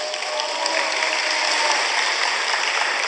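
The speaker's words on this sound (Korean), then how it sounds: "미리 박수 한번 쳐주세요" A church congregation applauds in a steady, dense wash of clapping that stays even and fairly loud throughout, with no talking over it.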